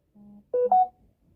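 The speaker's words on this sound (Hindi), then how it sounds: "एक मिनट मैं साइलेंट कर लूँ फ़ोन।" Mobile phone key tones as the handset is switched to silent: a few short electronic beeps in quick succession, close and clear, with no voices.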